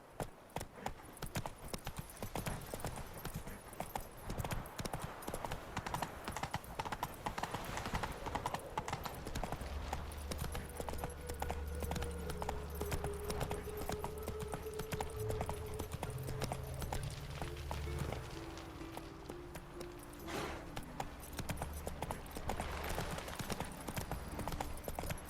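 Roach the horse trots in a steady, rapid clip-clop of hooves throughout, fairly close, with faint low rumbling in the background.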